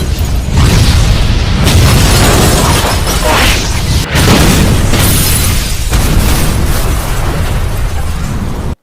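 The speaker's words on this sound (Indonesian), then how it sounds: "tewas oleh sebuah ledakan yang berasal dari tabung gas" A gas cylinder explosion: a loud, sustained blast of roaring, crackling noise with bursts and debris-like rumbling fills the whole stretch before cutting off abruptly.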